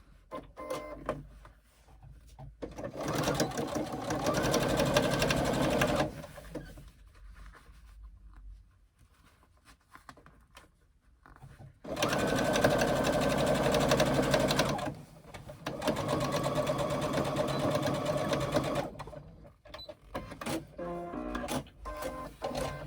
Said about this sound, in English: We are going to stitch the top of the pocket to the top facing